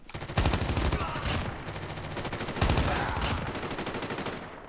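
Bursts of automatic gunfire in the mobile shooter Call of Duty Mobile, loud and close, with two long rapid volleys separated by a short pause.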